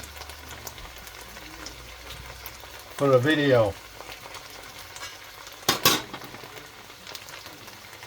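Meatballs in tomato sauce splashing and sizzling in a pan: a steady close frying hiss throughout, with brief speech in the middle and a short clatter of cookware later.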